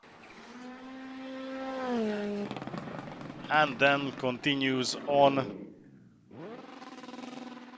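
A rally car's engine is still running after a massive crash off a forest stage of the Wyedean Stages Rally, a revving whine heard in bursts that rises and falls, with a commentator talking over it.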